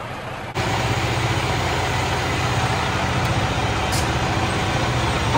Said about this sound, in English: My first super trucking adventure was, ground the gears a lot, and downshifting is kind of hard.